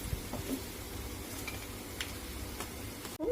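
Steady crackling sizzle of besan laddu mixture frying in a pan until golden, an even, fairly quiet hiss lasting throughout with a few faint clinks.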